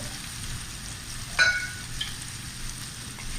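Butter with garlic cloves and a shallot sizzling in a pan, a steady low crackle throughout with one brief sharper clink or spatter near the middle.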